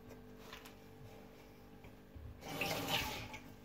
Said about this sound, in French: je me lave les mains